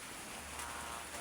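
Steady rain pattering during a storm, a dense even hiss of drops at moderate distance throughout the short stretch, with no talking.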